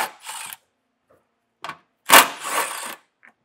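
A 10mm socket loosening a bolt on the frame rail panel of a 2024 Subaru Forester, heard as short separate ratchet and tool bursts, the loudest burst near the middle, close and alone without talk.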